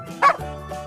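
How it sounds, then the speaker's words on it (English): A single short, yappy dog bark sounds close and clear, followed by a brief fainter whimpering tone. "Dog."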